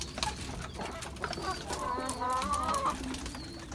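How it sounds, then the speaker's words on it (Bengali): A hen clucks and warbles in a rising, drawn-out cackle just before laying an egg, faint and somewhat distant against a noisy background on a rooftop poultry setup. "ডিম দেওয়ার আগে আগে একটা সাউন্ড করে দেখে বোঝা যায় যে ডিম দেবে"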